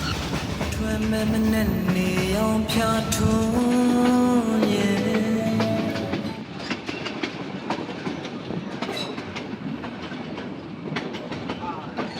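A train on a century-old railway in Myanmar's Shan hills heading toward Taunggyi rumbles steadily. A droning tone rises over the first half, then fades to a continuous clattering of wheels and carriages.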